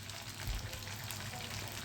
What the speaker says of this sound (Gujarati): હવે ધીમે તાપે હું તળું છું, ધીમે તાપે.